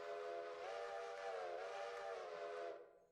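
A steam locomotive whistle from the Railroader train video game sounds as one loud, steady, close blast of nearly three seconds, rich and slightly wavering, then cutting off sharply with nothing else underneath.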